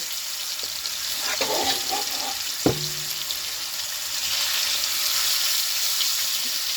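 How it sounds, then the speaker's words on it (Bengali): Chicken pieces dropped into hot oil on a flat tawa in a village kitchen, a near, steady crackling sizzle with a brief sharp clatter and splash as the meat goes in, no talking. "আমার তেলটা গরম হয়ে গেছে এবার আমি চিকেনটা দিয়ে দেব"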